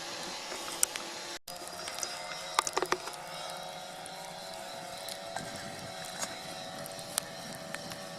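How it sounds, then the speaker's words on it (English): A drone hums overhead above a Scottish beach where campers cook over a campfire: a steady, moderately loud whine fills the air throughout, with faint scattered clicks and knocks nearby. "Sorry about the noise, that's bloody Ken's drone buzzing away there"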